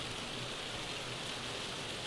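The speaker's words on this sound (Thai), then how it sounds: "คุณผู้ชมดูฝนตกหนักจริงนะ หนักมากๆเลย" Heavy rain pours steadily in a dense, even hiss with no letup, drumming on a house roof in a Thai housing estate, with no voices.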